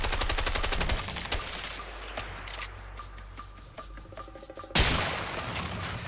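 Rapid automatic gunfire from a shootout in the co-op video game A Way Out, loud, with dense bursts and single sharp shots, then a heavy blast near the end.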